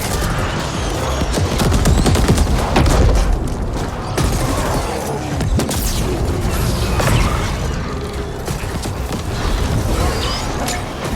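Weapon gunfire and explosions from the cyberpunk shooter game The Ascent, a loud, continuous barrage of booming blasts, rapid shots and mechanical clatter over a rumbling ambience.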